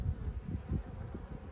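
Honeybees hum at a beekeeper's open hive, a low, fluttering buzz that pulses near and quiet over a brief moment, with no voices.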